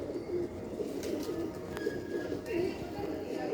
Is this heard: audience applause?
no